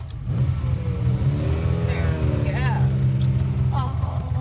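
Ferrari 12-cylinder engine droning steadily from inside the car with a constant low rumble and rising revs, while voices speak over the engine noise.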